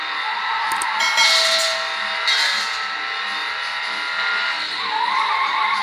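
In the racing game Need for Speed Underground, cars make contact. A loud engine roar comes with bursts of tire squeal and skidding, and the engine note rises and falls throughout.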